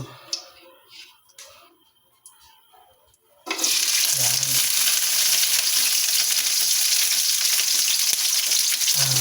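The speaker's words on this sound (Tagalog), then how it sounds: "Ilagyan na po natin ng bawang." Garlic tipped into a pan bursts into a loud, steady sizzle partway through, following a few seconds of quieter kitchen clatter, and the frying hiss then continues without a break to the end.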